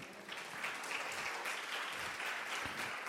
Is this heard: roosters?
no